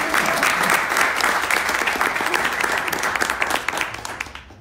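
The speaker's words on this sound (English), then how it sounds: "Give him a round of applause, y'all." Audience applause at a public event in Awaji, Japan, steady dense clapping from a crowd throughout, fairly loud and continuous, tapering slightly near the end.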